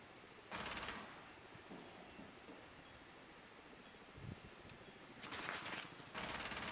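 Rainbow Six Siege gunfire exchange on the Presidential Plane map: two short bursts of automatic fire at the start, then a quieter stretch of scattered shots before another loud, sustained burst near the end, fairly distant and without talk.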